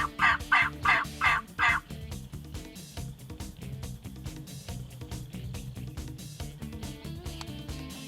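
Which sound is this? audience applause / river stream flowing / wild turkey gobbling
wild turkey gobbling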